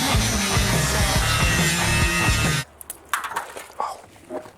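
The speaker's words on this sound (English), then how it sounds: "Get out the grinder." An angle grinder cuts to remove a motorcycle seat with a loud, steady whine for over two seconds, then cuts off abruptly. Scattered clanks and knocks follow in near quiet.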